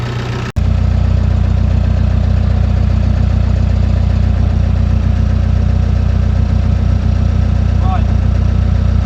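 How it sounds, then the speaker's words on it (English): Van engine idling after first start on its fuel tank, a loud, close, steady low rumble with an even pulsing beat, starting abruptly after a short pause and running continuously with faint background sounds. "Oh, it's idling so nicely."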